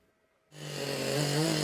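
A chainsaw cuts into a tree trunk for wood art, starting abruptly after a moment of near silence and then running loud and steady with a sustained engine drone.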